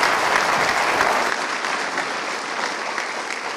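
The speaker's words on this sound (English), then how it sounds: "Let's give him a great round of applause." An audience at a healthcare innovation lecture claps in a dense, loud, steady burst of applause that eases off slightly toward the end.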